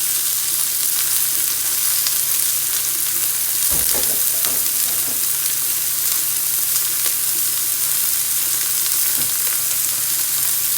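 Thin pork fillet slices sizzle steadily in a hot pan, a loud continuous fry with a burst of spitting and stirring clatter as the last batch goes in, no voices over it.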